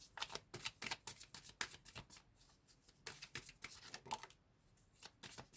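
Playing or tarot-style cards being shuffled by hand during a card reading, a rapid, crisp riffling and flicking in repeated bursts, close and fairly quiet with no talking.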